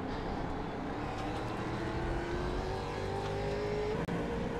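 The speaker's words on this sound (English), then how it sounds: "That was an awful gear change." Race car engine at Sebring International Raceway, revving hard with rising harmonic whine, then a sharp momentary dropout from a botched gear change before the engine picks back up.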